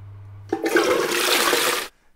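A household toilet cistern flushing: a sudden surge of rushing water that roars steadily for over a second, then cuts off quickly, heard close and alone after a low hum.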